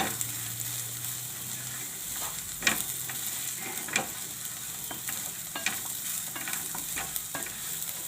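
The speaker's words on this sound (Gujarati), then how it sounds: "થોડાક આપણે તલ નાખશું અને આ આપણે ધાણા નાખી દેવું. બધું મિક્સ કરી લેવું" A semolina mixture with white sesame seeds and coriander is stirred in a pan, with steady close frying sizzle broken by several sharp scrapes and taps of the spoon and no voices.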